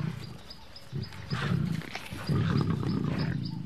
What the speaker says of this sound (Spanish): 7 leones luchando por su parte.